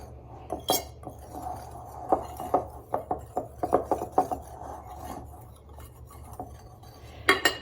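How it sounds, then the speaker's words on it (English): Baking powder and salt are whisked together in a bowl: a metal whisk taps and clinks against the bowl in short, uneven strokes, close and fairly quiet, with no talking. "I'm going to add 3/4 teaspoon of baking powder and 1/2 teaspoon of salt. And I'm just going to whisk those together."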